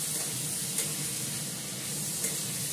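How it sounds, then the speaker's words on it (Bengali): Spice paste sizzling and frying in hot oil in a pan, a steady close crackling hiss with a couple of small pops and no voices. "দেখো কি সুন্দর তেল বেরিয়ে আসছে, মশলাটা কষে যাচ্ছে।"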